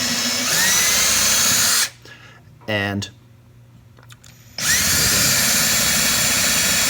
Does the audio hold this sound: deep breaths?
no